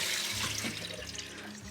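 Water gushes steadily from a tap in a skoolie bus conversion's plumbing once the pump has pressurised the system, a continuous close splashing flow with no talk.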